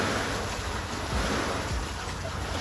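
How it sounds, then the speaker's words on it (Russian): Small sea waves stirred up by a swimmer wash against the shore, a continuous loud watery rush mixed with gusting wind buffeting the microphone, with no voices. "волны бьют по берегу"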